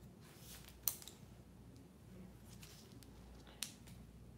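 Scissors snip hair for a short cut in a salon, two quiet crisp clicks about three seconds apart over faint room noise.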